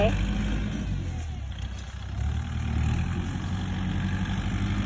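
A tractor engine runs steadily in a rice field, a continuous low rumble that stays fairly close and loud throughout, with faint background voices.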